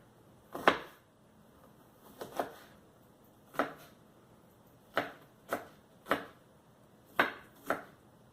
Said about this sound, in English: I still try to cut it up to about medium-sized chop